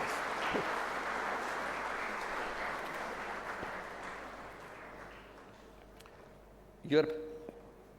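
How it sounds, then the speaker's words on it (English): Audience at a college graduation day ceremony applauds the faculty, a broad steady clapping that gradually thins out, followed by a brief sharp knock or microphone bump. "Please, loud applause for the faculties."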